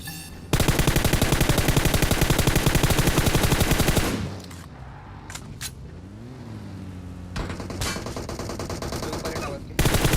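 Rapid automatic gunfire in the mobile battle-royale game PUBG Mobile, loud sustained bursts with a quieter gap of scattered single shots between them.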